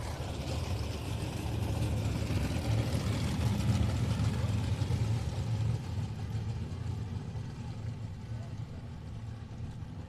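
Southern United Sprint Cars idle around a dirt oval at Texana Raceway Park on slow pace laps before a six-car heat race, a steady low, rumbling drone that fades slightly toward the end, with a voice talking over it.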